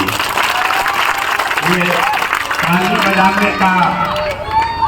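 A crowd claps and cheers loudly and continuously, with voices audible through the applause.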